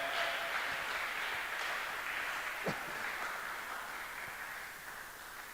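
A church congregation applauds and acclaims in a steady, even wash of clapping that holds at a constant level for several seconds before easing slightly.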